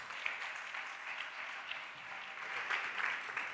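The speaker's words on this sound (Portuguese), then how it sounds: "pido un fuerte aplauso para él" Sustained audience applause at a conference session, dense and steady throughout as a crowd claps warmly for a presenter.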